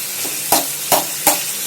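Tomato, onion, green chili and curry leaves sautéing in oil for a Sri Lankan fried brinjal gravy: a close, loud sizzle broken by three evenly spaced scraping stirs of a spoon.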